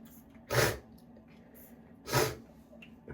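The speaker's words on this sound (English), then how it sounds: "I've been sneezing like crazy." A person sneezes twice, about a second and a half apart, each a sharp, loud, close burst standing out against quiet room background.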